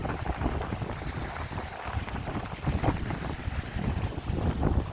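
Strong wind roars against the microphone in continuous rumbling gusts in snowy winter highlands, loud and close, with no voices.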